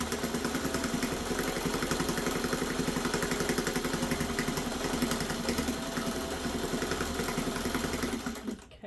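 A sewing machine stitches binding onto an old hand-pieced grandmother's flower garden quilt, a steady, fast motor whir with a rapid, even needle pulse that runs continuously up close before cutting off abruptly.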